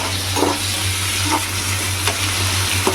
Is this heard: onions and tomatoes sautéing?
yes